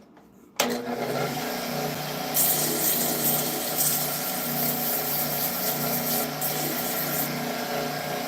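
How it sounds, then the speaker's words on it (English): Fine sandpaper rubs against a wooden woodturning piece spinning on a lathe, starting abruptly as a steady, loud, rough hiss over the motor's hum and continuing without pause. "let's hit it with some fine sandpaper and then super glue coating"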